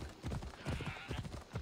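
Horse hooves clop in a quick galloping rhythm in the Assassin's Creed Odyssey video game, steady and fairly close but moderately quiet, with no speech.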